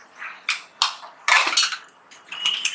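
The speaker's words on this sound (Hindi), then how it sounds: "मैंने कुकर की लीड बंद कर दिए।" A pressure cooker lid being fitted and closed during mutton dal gosht cooking, a quick series of metallic clanks and scrapes, close and fairly loud, with no talk.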